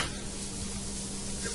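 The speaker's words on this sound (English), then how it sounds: "We got some sizzle going over here." Garlic sizzles in a hot frying pan in a short, even burst of crackling fry that is fairly quiet and steady, with no talking.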